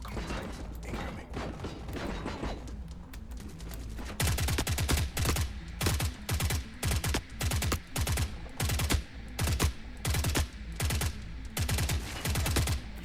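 Rapid bursts of automatic gunfire in the video game The Forever Winter, a frozen swamp firefight, loud and close, starting with scattered shots then settling into dense repeated volleys with brief gaps, over a low rumbling game background.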